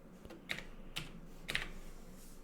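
A few separate keystrokes on a computer keyboard, sparse and unhurried, with quiet clicks over a faint background hum.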